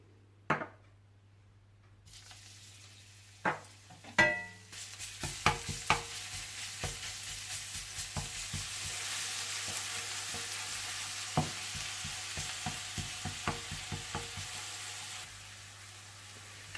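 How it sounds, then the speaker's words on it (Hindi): Garlic fries in hot oil in a pan, a soft steady sizzle beginning after a few seconds, punctuated by repeated sharp clicks of a spoon stirring against the pan; fairly quiet and close, with no speech. "आप तेल गरम कर लीजिए और इसमें लहसुन को थोड़ा सा फ्राई कर लीजिए"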